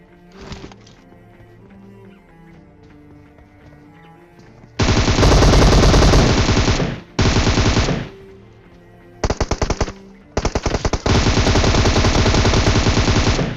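Loud automatic gunfire in a shooter video game arrives in several long, dense bursts up close after a quieter stretch of game sounds.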